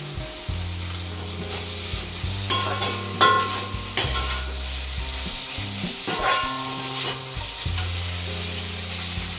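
Schezwan chutney sizzles in a hot pan of chicken fried rice, street-style Chinese cooking, with steady frying hiss, a low hum and clanking spatula strokes stirring throughout.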